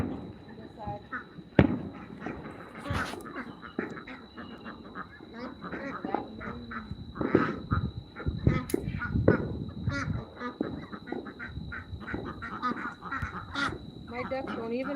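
Fourth of July firecrackers and fireworks pop and crack in a backyard at irregular intervals, while ducks quack and honk nearby and people talk throughout.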